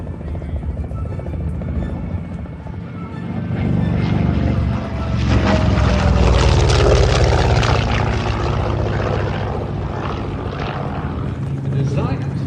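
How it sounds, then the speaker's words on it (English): Grumman F6F Hellcat warbird diving at an airshow in McMinnville, Oregon, its piston engine roar swelling loudly midway with a shifting whine, under a commentator talking over a public address. "diving Hellcat."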